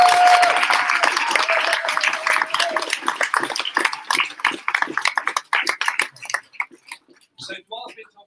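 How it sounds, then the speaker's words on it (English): Audience applause at a startup pitch competition grand final in Brisbane, a dense, loud burst of many hands with a faint voice over the start, thinning into scattered individual claps that die away near the end. "Can I have a big round of applause for"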